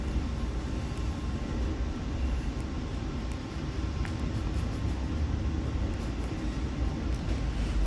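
Norfolk Southern freight train heard from inside an Amtrak cafe car: a steady, fairly faint rolling rumble of rail noise fills the whole stretch, with occasional light clicks and no talking.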